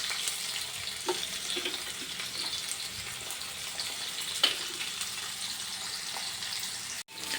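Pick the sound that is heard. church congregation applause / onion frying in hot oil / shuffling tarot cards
onion frying in hot oil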